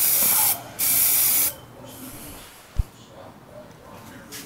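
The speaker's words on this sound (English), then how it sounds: "There, I'm done spraying them." Aerosol Plasti Dip sprayed onto car wheels, two close hissing bursts of spray in the first second and a half, followed by quieter background and a single soft knock.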